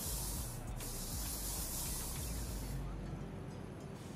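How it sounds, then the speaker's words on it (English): Hose spray washing down parking spaces in the video game Parking Tycoon: Business Simulator, a continuous loud hissing spray that runs unbroken and eases slightly toward the end. "let's hose these down, spray them down, make them spaces."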